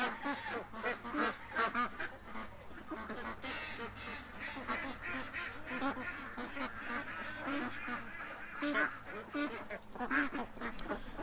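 Domestic geese honk and squawk loudly and continuously at close range on a farm where a fox has been attacking the flock, their overlapping calls forming a dense, noisy chorus.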